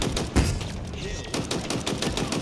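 Rapid machine gun fire in Halo Infinite multiplayer: dense, loud bursts of rattling shots repeat steadily and close, with a heavy thump near the start.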